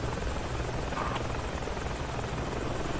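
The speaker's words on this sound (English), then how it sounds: "Got a chopper here landing." A helicopter comes in to land in the military shooter Project Reality, its rotor chopping in a loud, steady, close drone that fills the whole stretch without any voices.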